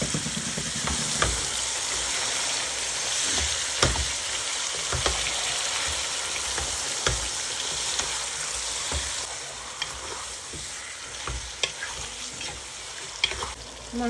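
Marinated meat fries with whole black pepper, cloves, cardamom, cinnamon, bay leaves and green chilies for biryani, giving a continuous close sizzle broken by clacking stirring strokes, with no talking.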